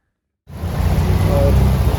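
Heavy rain heard from inside an auto-rickshaw on the way to Baiyappanahalli metro station. After a moment of silence, a loud, dense, steady roar of downpour begins abruptly and keeps going.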